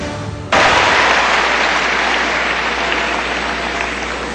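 A large audience bursts into loud, sustained applause at a political speech by Narendra Modi, starting abruptly and holding steady as a dense wash of clapping.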